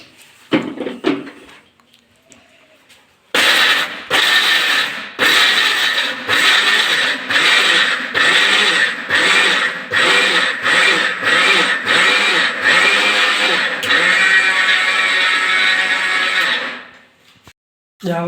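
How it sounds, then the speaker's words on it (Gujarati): A kitchen mixer grinder crushes cooled besan laddu pieces into powder, running in a loud series of short, repeated pulses before a longer continuous whir that then stops. "આ પીંડિયા ઠરી ગયા છે હવે આનો ભૂકો કરી મિક્સરમાં"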